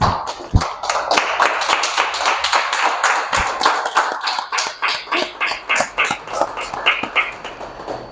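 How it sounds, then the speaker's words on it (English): Audience applause as a holistic health coach walks up to the stage, a dense sustained patter of many hands clapping at close range for about eight seconds, with a few sharper individual claps standing out. "A round of applause for Coach Getrude as she comes up."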